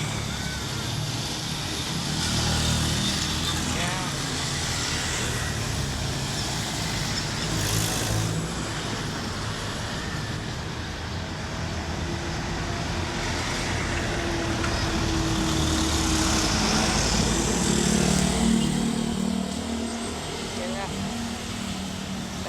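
Steady road traffic passes continuously, including container trucks and jeepneys near a Pasig market, forming a constant broad rumble throughout with passing swells.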